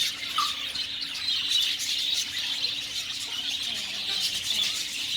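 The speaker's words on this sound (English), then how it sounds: "And let me show you my birds. They are very active and healthy as well." Caged birds chirp and tweet busily close by, a continuous stream of bright high calls with occasional squeaks, no voices over them.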